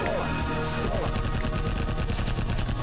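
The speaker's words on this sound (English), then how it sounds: "Stop shooting me." Continuous rapid enemy gunfire in the video game Iji, a loud, dense stream of repeated shots with no pauses.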